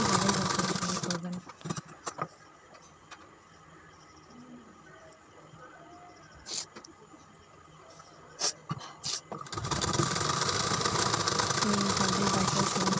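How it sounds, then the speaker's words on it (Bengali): A sewing machine double-stitches a blouse seam, running steadily at the start, going quiet while a person talks, then whirring loudly again through the final few seconds. "ডবল বার করে সেলাই করে নিচ্ছি।"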